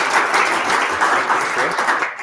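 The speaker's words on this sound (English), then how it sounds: "A big round of applause." A startup pitch event audience breaks into a short burst of full, close applause that holds steady and begins to fade at the very end.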